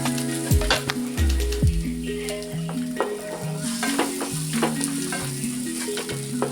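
Onion frying in butter or oil in a pan, a bright steady sizzle with clanks and scrapes of a spatula against the pan, sharp knocks scattered throughout, close and fairly loud, no speech.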